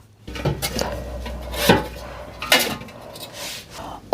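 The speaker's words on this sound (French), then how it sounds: "Je viens ensuite ajouter cette petite grille qui est vendue avec l'autoclave qui permet de mettre un deuxième étage" Small metal rack set down inside a home canning autoclave between layers of jars of peas: a few scattered metallic clinks and knocks, close and moderately loud, with no talking.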